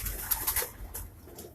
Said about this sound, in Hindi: ये कबूतर एक दूसरा रामपुरी कबूतर है।